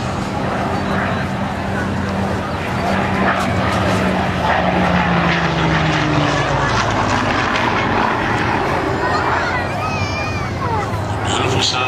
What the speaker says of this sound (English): Hurricane running in.